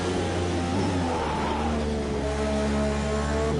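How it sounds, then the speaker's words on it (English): Racing car in the Project Cars 2 video game at Donington Park under hard late braking, a loud steady engine roar with shifting tones as the tyres lock up, continuous with no talk. "Again, locking up a little bit on the brakes, as you can hear"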